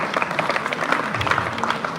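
An audience at a student debate event applauds the debaters, a dense, continuous patter of many hands clapping at steady volume with faint voices mixed in.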